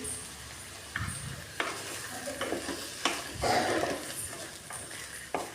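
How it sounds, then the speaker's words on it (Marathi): Boiled potato being mixed with lemon juice in a pan for vada pav filling, a series of scraping, clattering stirring strokes at an irregular rhythm over a soft background sizzle, with no talk. "आता मी ते लिंबाचा रस यामध्ये मी टाकते व ते सर्व मिक्स करून घेते"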